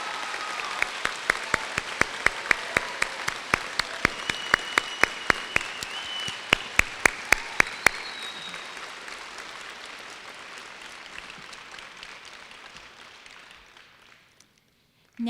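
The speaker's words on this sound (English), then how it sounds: "Let's give these students a round of applause for a job well done." A high school awards ceremony crowd applauds students, sparse but sharp individual claps standing out over a softer bed of clapping for several seconds before the sound tapers away into near quiet.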